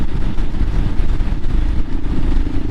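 A Royal Enfield Himalayan 400cc motorcycle engine pulling under throttle on an enduro ride along Ortega Highway 74, a steady, loud, gritty rumble with wind roar, no talking.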